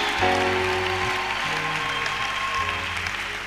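Church congregation applauding and acclaiming Jesus at a French-language worship service, steady dense clapping and cheering throughout, with sustained musical tones underneath.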